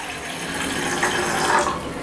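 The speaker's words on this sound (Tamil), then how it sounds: "இதுல ஒரு டம்ளர் தண்ணி விடுங்க." A tumbler of water poured into a pot on a kitchen stove, heard as a steady, close splashing pour lasting about two seconds with no talk.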